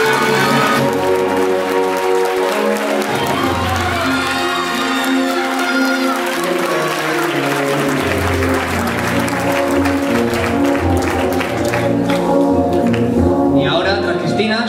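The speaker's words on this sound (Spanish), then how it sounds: "Un fuerte aplauso para esta chica." Loud, sustained audience applause with some cheering fills the air for the young child queen of the San Roque neighbourhood festival in Novelda, continuous and dense throughout.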